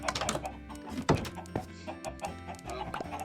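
Chickens cluck repeatedly on a video game farm, several birds overlapping in a busy, moderately loud stream of short calls with no talking.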